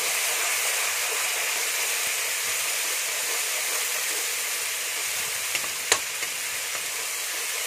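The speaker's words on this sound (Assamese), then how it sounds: "মাংস ধুনীয়াকৈ মছলাখিনি মই ভাজি ল'ম" Chicken pieces frying with whole ground spices in oil for an Assamese chicken and bamboo dish, producing a steady hissing sizzle close by, with a sharp clink of a utensil near the end and no talking.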